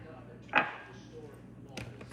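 Ice cubes drop into a blender for a SnoBall protein coffee freeze, a sharp rattling clatter near the start followed by a second smaller clink, close and distinct over a quiet kitchen.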